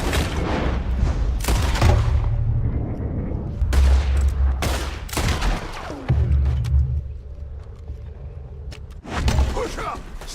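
Gunfire from Red Dead Redemption 2 erupts in repeated loud, close shots and bursts, spaced irregularly across the scene, with booming low thuds and voices shouting between them.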